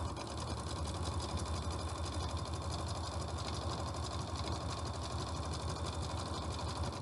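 A sewing machine runs steadily while zigzag stitching down a piece of twin sheet fabric, a continuous fast mechanical whir and rattle heard up close at low volume.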